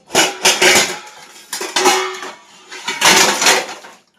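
Heavy-bottomed steel cooking pots clank and scrape together in a kitchen. Three separate bursts of metallic knocking and rattling come close and loud, with short quieter gaps between them.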